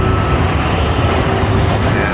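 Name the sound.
road traffic near an airport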